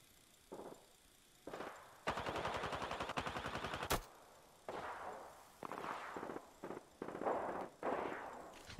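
Gunfire in the Overwatch video game: a fast, rattling automatic burst of evenly spaced shots, then several shorter volleys and single shots, moderately loud with no talk over them.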